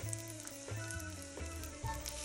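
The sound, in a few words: onion sizzling in hot oil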